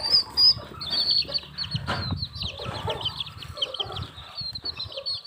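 Chicks cheep and chirp in a high, busy chorus, with wings fluttering and soft clucking from farm fowl close by, no talk over them.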